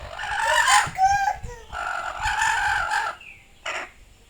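Chickens cluck and squawk close by in several loud bursts with short pauses, one call stretching into a crow-like cry.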